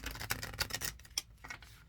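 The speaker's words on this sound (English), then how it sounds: "shuffle these cards like 3 times." Tarot cards being shuffled by hand, a quick run of crisp riffling snaps and flicks in a couple of short bursts, close and fairly quiet.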